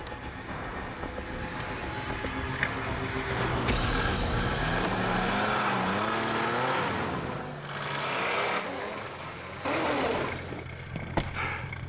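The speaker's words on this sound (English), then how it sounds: "The noise and smell of the snow machine stands in stark contrast to the majestic beauty" A snowmobile engine drags a loaded sled uphill in the Arctic, revving and straining in long rising and falling whines that stay close and fairly loud, with a brief dip in the middle.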